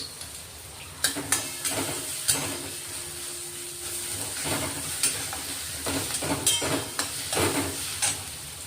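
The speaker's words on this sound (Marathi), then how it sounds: "एक चमचा लसूणची पेस्ट केलेली, ती आपण आता टाकून घेऊ" Garlic paste and onions frying in a pan with a pinch of asafoetida, a steady close sizzle broken by repeated sharp scrapes and clinks of a spoon stirring against the metal.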